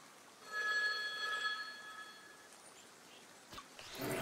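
A telephone rings with a steady electronic trill in the video game The Wild at Heart, fairly faint and sustained for a couple of seconds before fading, followed by a soft click and rustle.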